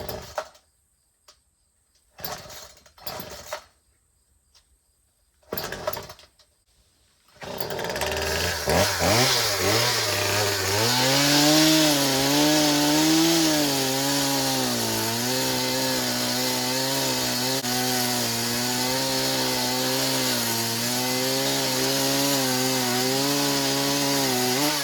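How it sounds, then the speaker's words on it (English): A free hand-me-down chainsaw, low on gas, cutting down a tree branch: a few short sputtering bursts as it starts, then a loud, steady, close buzzing roar whose pitch wavers as it bites into the wood. "Maybe there's enough gas in the chainsaw to have one cut"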